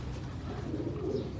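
Domestic pigeons, banded and cross-bred fancy birds, coo in a low, continuous rolling murmur that stays close and steady throughout the short moment.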